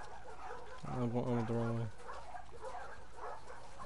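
A dog in The Last of Us Part II lets out a short burst of bright, close barks and yips lasting about a second, with a voice talking before and after.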